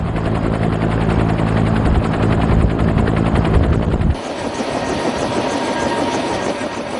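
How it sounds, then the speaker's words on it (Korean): A Cobra attack helicopter at an army aviation unit lifts off the ground, its rotor and turbine roar loud, close and continuous with rapid blade chop, then the deep low rumble drops away abruptly, leaving a thinner high whine. "드디어 코브라 헬기가 지상에서 발걸음을 떼려고 한다."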